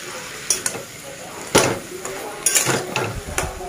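Chicken pieces tossed into a pressure cooker with fried whole garam masala, giving a soft sizzle broken by several loud metallic clanks and scrapes of a spatula against the pot, with a voice faintly present.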